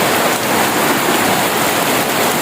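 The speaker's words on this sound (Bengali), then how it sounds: "প্রচুর বৃষ্টি।" Heavy rain pours steadily over a village landscape, a dense continuous hiss close and loud throughout, with no voices.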